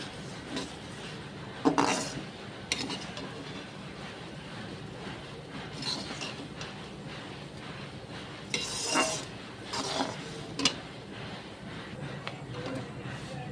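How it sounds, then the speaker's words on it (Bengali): Ingredients frying in a pan for homemade hair-fall oil are stirred with a utensil, giving a steady low sizzle broken by several sharp scrapes and clinks against the metal, close by, with no talking. "দেখুন বন্ধুরা, কত সুন্দর ভাজা হয়ে যাচ্ছে"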